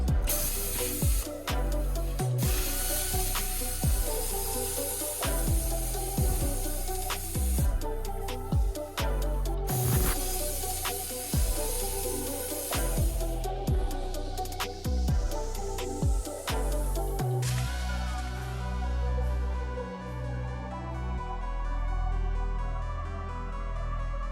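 Plasma cutter slicing through metal on a hot rod build, a loud close spraying hiss broken by stops and restarts, ending in a quieter mechanical hum.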